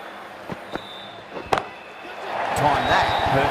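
A sharp wooden crack of a cricket bat striking the ball in a CSK vs RCB cricket video game, preceded by a couple of lighter knocks and followed by swelling crowd noise.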